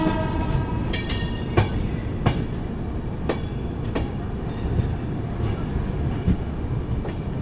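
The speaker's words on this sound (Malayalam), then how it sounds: "നമ്മളിതാ ജസ്റ്റ് സർ എം വിശ്വേശ്വരയ്യ ടെർമിനലിൽ നിന്ന് പുറപ്പെട്ടു" The Kochuveli Humsafar Express pulls out of a Bengaluru terminal station, giving a steady rolling rumble with evenly spaced wheel clacks over rail joints, heard from inside the moving train.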